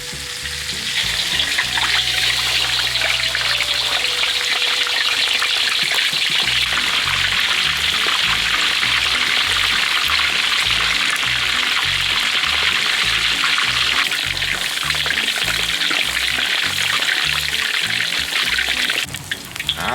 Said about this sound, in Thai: ทอดจน เหลืองแล้วครับ